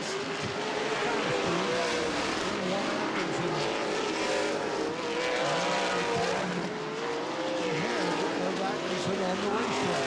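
Late model stock cars race at Anderson Speedway in a CRA Late Model Sportsman event, engines roaring loud and continuous with rising and falling pitch as the pack passes, a commentator talking over the din.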